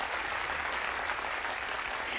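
Dense, steady clapping from many hands, a continuous wash of applause at moderate distance with no talking over it.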